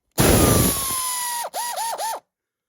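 Concours 1400 motorcycle brake carrier bobbin spun by hand, giving a close whirring metallic spin that slows and stops, then a few short spins and clicks in quick succession.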